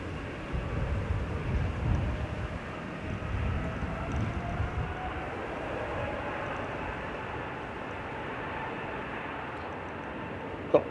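An SAS Airbus A321neo airliner rolls off the runway at Manchester Airport, heard as a broad, steady jet roar at moderate distance that slowly fades and whines, with no voices over it.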